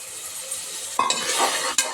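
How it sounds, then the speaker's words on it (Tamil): Green chillies and tomatoes sauté in a pan for mutton salli, starting as a gentle sizzle and swelling into louder spattering when stirred, with a sharp utensil clank near the end. "கொஞ்சம் நல்லா வதங்கட்டும்"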